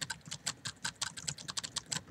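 Rapid keyboard typing in the chat game Emily Is Away, a steady run of close, crisp key clicks in an uneven rhythm, heard alone with no voices.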